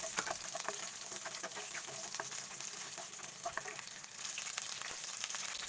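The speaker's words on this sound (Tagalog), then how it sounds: "igisa na natin ang garlic," Garlic and onion sautéing in a little hot cooking oil in a wok, a steady bright sizzle with scattered pops and crackles throughout, fairly quiet and with no voices over it.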